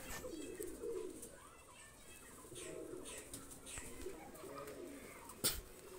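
A pair of golden pigeons, one of them a female, give soft, low coos that come and go in quiet repeated bursts under faint background noise, ending with a sharp click.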